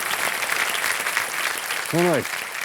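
A studio audience on a celebrity-special quiz show applauds to welcome guests, a steady wash of clapping with a brief voice cutting in near the end.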